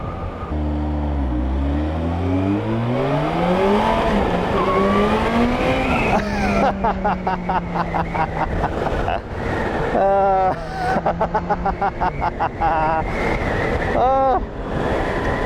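A 2020 Kawasaki ZH2 motorcycle engine accelerates hard, its rising howl climbing through the gears with brief dips at shifts, loud and close, while a rider talks over it at times.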